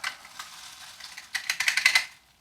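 Zucchini and shrimp fritters start frying in a pan with a little oil, making a light crackling sizzle. Brief scrapes and clicks come through in short bursts, with a louder cluster of them in the second half.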